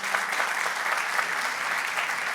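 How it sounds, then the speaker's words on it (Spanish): A church congregation applauding loudly and steadily, a dense wash of clapping filling the whole stretch with no voices standing out. "Dile un aplauso fuerte a nuestro Dios"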